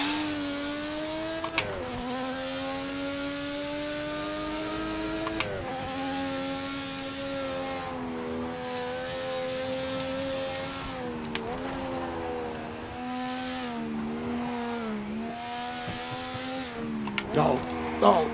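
A Ford Capri and a Mazda MX-5 race in a driving game, their engine notes droning steadily and rising and falling with gear changes throughout, with brief sharp noises breaking in.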